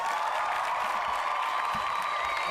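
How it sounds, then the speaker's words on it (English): Applause sound effect: a steady, dense wash of many hands clapping, continuous and even from start to finish with no breaks or single claps standing out. "You got your claps in."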